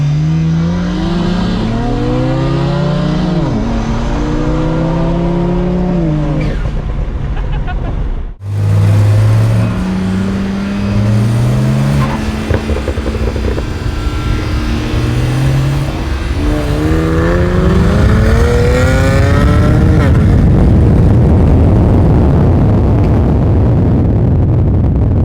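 A modified, tuned BMW car floored in a real race, engine roaring loudly through rising gear pulls, with a sharp break at a shift and a sustained high rev near the end, alongside wind and road noise.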